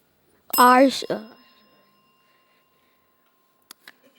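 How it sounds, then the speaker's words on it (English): A quiz-competition time-up bell rings once with a bright, sustained metallic tone that fades over about a second, followed by faint ticks; no talking during it. "The bell beat you before you could have completed that"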